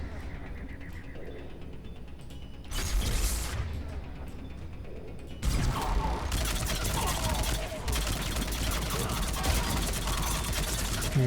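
An engineer's turret firing in Mass Effect 3, with loud sustained gunfire bursts and rattling mechanical shots that jump in volume partway through, with voices talking over the combat.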